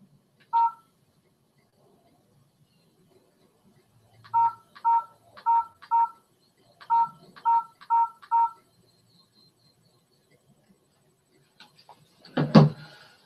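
Telephone keypad dialing tones from a new phone: a single beep, then a pause and a quick series of nine evenly spaced beeps, closing with a short burst of louder noise.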